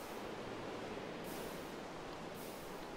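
Steady rain falling in the video game Minecraft, a soft, even hiss with no breaks, faint and unchanging for a few seconds with no talk.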